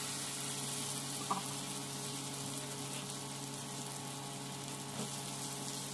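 Ginger paste sizzles in hot oil with fried spices, making a faint, even crackling hiss throughout, with a couple of small clicks from the pan.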